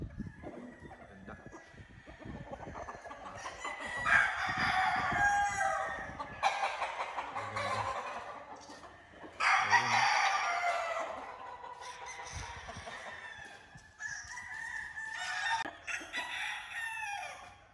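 Broodstag roosters crowing in a backyard range area, several long crows in succession at moderate distance, mixed with clucking and faint outdoor background.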